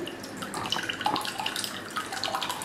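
A thick mango yogurt mixture poured into a clay pot, a close, continuous wet glugging and splashing with small drips, moderately loud and without speech.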